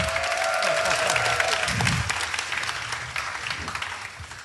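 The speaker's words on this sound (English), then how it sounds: "let's all give a round of applause for Walking Dead artist, Mr. Charlie Adlard." Audience at a comic book artist's talk breaking into applause, a burst of clapping that is strongest at first and then gradually fades.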